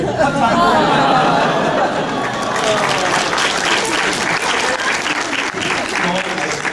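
Comic convention crowd clapping and cheering loudly, a dense continuous burst of applause with chatter and a few voices mixed in, sustained throughout.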